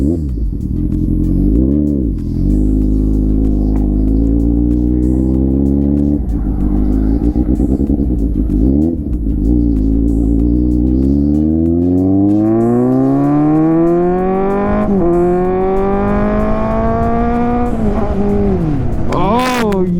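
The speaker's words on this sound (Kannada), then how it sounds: "ನನ್ನ ಮೊದಲನೆಯ ಸ್ಪೋರ್ಟ್ಸ್ ಬೈಕ್ ರೈಡ್" A Kawasaki Z800 sports motorcycle pulls away and accelerates, its engine note climbing steadily through the gears with brief dips at each shift, loud and close throughout, while a rider speaks faintly now and then.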